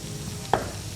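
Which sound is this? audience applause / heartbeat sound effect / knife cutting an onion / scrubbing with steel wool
knife cutting an onion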